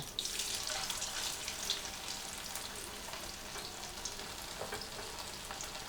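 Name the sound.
chicken pieces frying in coconut oil with curry leaves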